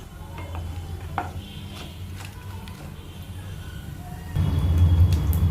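Cumin seeds, two dried red chillies and asafoetida temper in hot oil for a corn curry, a low crackle and sizzle with occasional clinks and stirs, swelling into a louder fry near the end.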